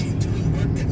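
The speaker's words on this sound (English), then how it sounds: "I'm in the car driving" A car driving along, its steady low road and engine rumble running continuously under a person talking.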